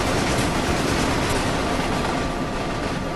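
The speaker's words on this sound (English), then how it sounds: "A freight train passes in the extreme dark." A freight train passing in the dark on the Main-Spessart Bahn in Train Sim World, a loud, continuous close rumble and rushing roar of rolling wagons that fills the whole stretch without letup.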